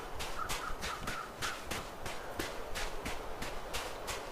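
Crows caw repeatedly in a video game, about a dozen harsh rhythmic calls spaced evenly over a soft outdoor ambience, faint and somewhat distant.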